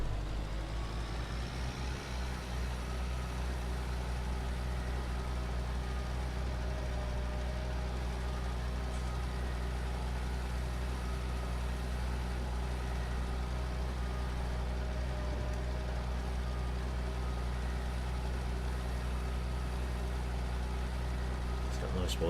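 A tractor with wide tyres and a fertiliser spreader of about 3,000 litres runs with a steady low engine drone throughout, fairly quiet and constant, with a person talking over it.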